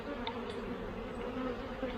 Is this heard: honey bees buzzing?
yes